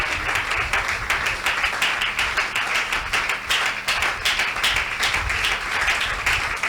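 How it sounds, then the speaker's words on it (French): A worship congregation claps and cheers for the Lord, giving a continuous, energetic wash of rapid hand claps with a faint rhythmic pulse running under it. "Acclame très fort pour le Seigneur"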